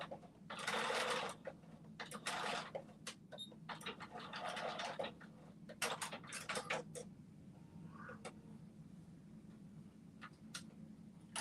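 A sewing machine runs in short, quiet bursts of stitching, with clicks and small mechanical ticks between runs against a low background hum.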